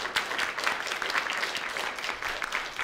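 Audience applause at an awards ceremony honouring journalism winners, a dense steady patter of many hands clapping throughout, fairly loud and close, with no talk over it.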